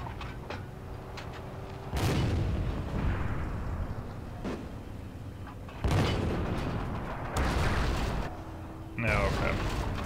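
Heavy artillery booms in the World War II shooter Forgotten Hope 2, several loud blasts a few seconds apart, each with a long rumbling tail over steady battlefield ambience.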